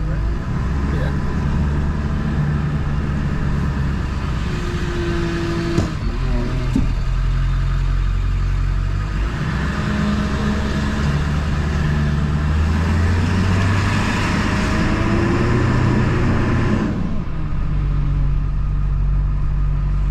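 Ford F250 Super Duty pickup with a 7.3 Powerstroke diesel engine reversing, a steady, close engine drone with shifting tones that runs throughout, rising in pitch at moments.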